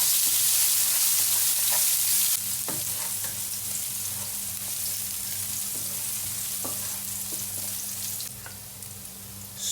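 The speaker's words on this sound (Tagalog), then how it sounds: "Una natin igisa ang bawang" Garlic sizzles in hot cooking oil in a pan while being stirred. The frying hiss is steady and close, louder at first and then settling, with occasional scrape and stir clicks and no voices.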